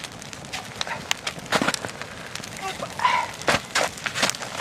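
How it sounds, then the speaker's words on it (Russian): A campfire crackles with scattered sharp pops and snaps over a soft hiss, set outdoors in late-winter snow, with faint sounds around it. "Видишь, какой у нас огонь."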